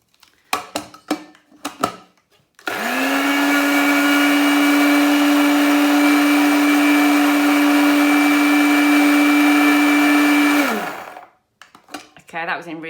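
An electric grinder whirs loudly and steadily for about eight seconds as it blasts dried herbs into powder, the motor starting and stopping abruptly, with brief clatter and handling noises before and after.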